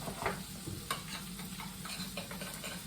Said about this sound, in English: pancetta starting to fry nicely now